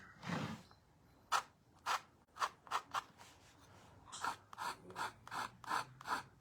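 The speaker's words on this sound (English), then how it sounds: "I'm going to kind of scrape this in a little bit too" A tool scraping thickened paint to blend it, about a dozen rasping strokes in an uneven rhythm, close and fairly quiet, with no talk over them.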